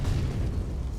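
A flashbang grenade detonates in a video game during a grand-finals esports match: one loud, dense, booming blast that fills the whole moment, with no talk over it.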